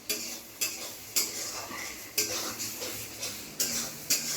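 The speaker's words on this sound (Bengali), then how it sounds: "মা করছেন রান্না, এখানে মাটনের প্রস্তুতি চলছে।" Mutton cooking in a pan is stirred with repeated scraping strokes at a regular rhythm, each stroke a sharp, close scrape over a low background sizzle.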